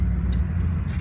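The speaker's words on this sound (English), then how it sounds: "You can see I'm driving now for a little bit" An RV driving on the road gives a steady low rumble of engine and road noise, continuous and fairly loud, with a faint hiss above it and no talk.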